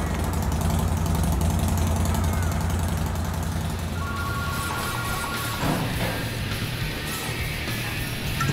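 Harley-Davidson Twin Cam engine in a Softail, built as a 107-cubic-inch street motor with 574 cams, running steadily at close range with a heavy low rumble and a continuous mechanical clatter.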